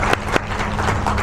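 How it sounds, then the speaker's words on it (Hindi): Audience clapping at an honour ceremony for noted figures at Lit Chowk in Indore, a short burst of steady applause with a couple of louder claps standing out. "इसके लिए भी एक बार जरूर ताली बजाइए"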